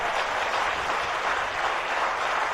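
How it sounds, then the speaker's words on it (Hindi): Audience at a Jain religious discourse in Damoh applauding steadily, a dense, even wash of many hands clapping throughout without pause. "ताली बजाओ अच्छे से।"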